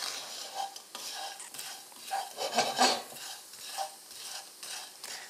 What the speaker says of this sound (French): il faut toujours bien mélanger, sinon on brûlerait les fruits secs